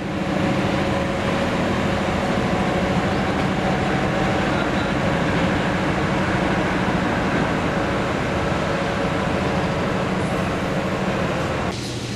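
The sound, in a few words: train switching to a different track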